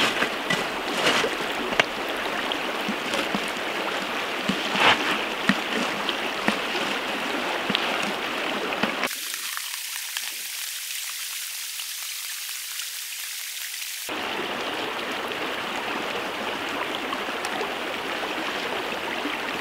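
An MSR HyperFlow backpack water filter being pumped, heard as a steady gurgling, splashing wash of water with a brief quieter break partway through and no talking.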